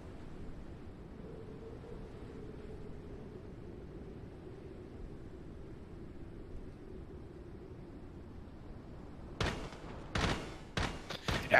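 Gunfire in the tactical shooter game Lost Light: after a long stretch of low droning ambience, a few sharp, loud shots crack out in quick succession near the end.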